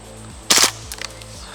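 An airsoft gun fires a short full-auto burst, a quick cluster of sharp cracks, followed by a few fainter clicks and rattles in a quiet setting.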